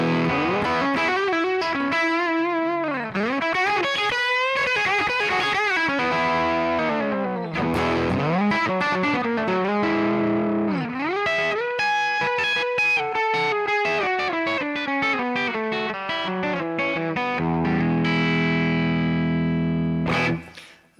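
A Gibson SG electric guitar plays through an amp with a heavy, distorted tone, giving sustained melodic lead lines with bends and slides for about twenty seconds and ending in loud chugging chords, with no voices.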